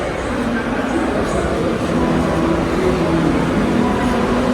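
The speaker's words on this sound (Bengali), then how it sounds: "মেট্রো এসে গেছে যাবে তো" A metro train in Kolkata rumbles in with a deep, steady roar and rising rail noise, filling the space loudly and evenly for several seconds.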